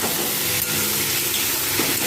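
Onion paste with ginger and garlic, salt, turmeric and a little sugar sautéing in oil, a steady broad sizzle and hiss running throughout without pause, close and fairly loud.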